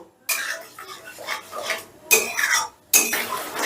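Spice paste stirred and fried in a pan over high heat, three loud close bursts of scraping and clattering from a utensil against the metal pan with brief gaps between them, no speech.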